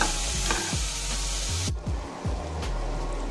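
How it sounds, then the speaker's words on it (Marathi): Tomatoes are stirred into softened onions frying in a pan for rice khichdi, with a steady sizzle under scraping spoon strokes and a few soft knocks against the pot. "कांदा थोडा मऊ झाला की आपण हे टोमॅटो त्याच्यामध्ये घालून घेऊया आणि एकदम हलवून घेतो थोडंसं।"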